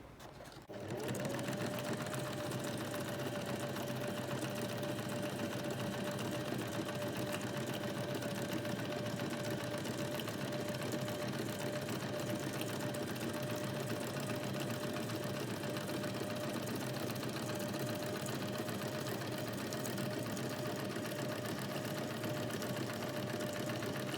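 A sewing machine runs steadily for about 23 seconds, stitching a herringbone-style feather stitch through a paper collage book cover. The motor hum is continuous and fairly loud throughout, with no talking over it.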